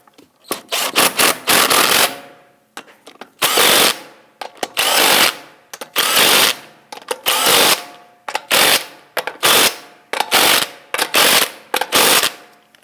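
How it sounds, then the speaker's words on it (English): Lug studs on a Volvo S60 being torqued with a ratcheting wrench, loud close bursts of rapid clicking in short repeated strokes with brief pauses between. "Let's go ahead and torque down our lug studs here to 103 foot-pounds."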